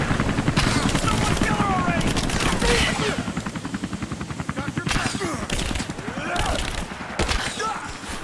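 Heavy gunfire rattles through a firefight in the Rise of the Tomb Raider video game, with rapid automatic bursts and sharp shots layered continuously and loudly. Combat noise and thuds fill the background.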